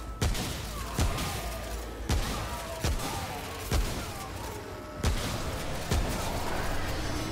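Repeated gunshots in the video game Remnant: From the Ashes, about seven sharp booming reports spaced roughly a second apart over steady game ambience, with no talk.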